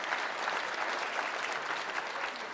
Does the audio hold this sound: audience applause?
yes